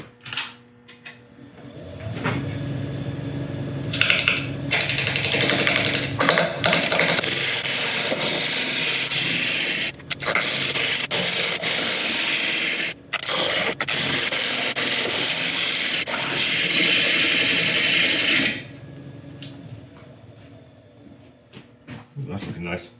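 A wood lathe spins an uncut burl at about 660 RPM, a broad rough scraping and rushing sound as the tool cuts through bark and wood, steady for long stretches with brief breaks, then fading out near the end.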